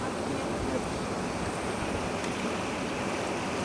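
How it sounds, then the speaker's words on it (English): River rapids nearby send out a steady loud rush of water, with wind buffeting the microphone throughout. "we've got the rapids near here"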